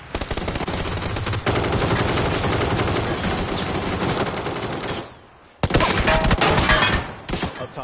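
Dense automatic gunfire from the battle-royale game PUBG, loud sustained bursts that stop briefly, then resume with more rapid shots, heard close with no talking.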